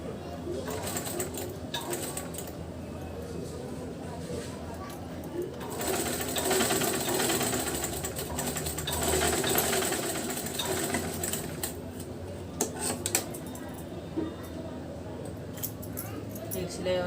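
A sewing machine runs steadily while stitching a double katori blouse, its dense mechanical whir continuous and close, with faint bird calls and occasional clicks in the background.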